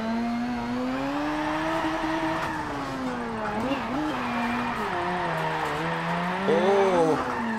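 Mazda RX3 drifting in Forza Motorsport 7, a high-revving rotary engine note rising and falling steadily with tire squeal, ending in a brief louder rev.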